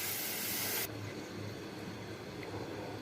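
Hot milk poured into a pan of browned, frying vermicelli, with a loud rushing hiss for under a second that drops abruptly to a softer, steady bubbling simmer.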